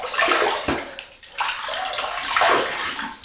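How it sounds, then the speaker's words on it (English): Water splashes and sloshes as a face is rinsed at a sink during a wet shave, in close, loud bursts with brief pauses between them. "So just rinse the face and we get going."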